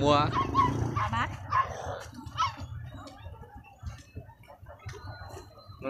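Dogs bark and yip in short, scattered bursts at a dog market, loud at first and then fainter and farther off, while people talk nearby.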